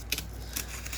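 Scissors cutting through battle mat material for a role-playing game, two or three quick close snips in a short moment.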